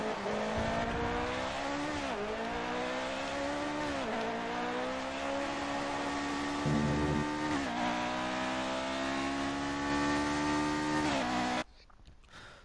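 Race car from the F1 2018 video game driving, a loud continuous engine whine rising and falling through repeated gear shifts and throttle changes, cutting off abruptly near the end.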